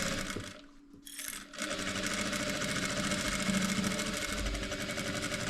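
A sewing machine runs steadily, stitching a backstitch to join the lining and batting of a flower-print zip pouch, its rapid mechanical hum continuous with a brief slowdown near the start.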